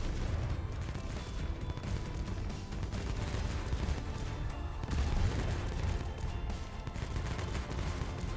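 Turrets firing in the video game Arkcats, a dense, continuous barrage of overlapping shots and booms that never lets up.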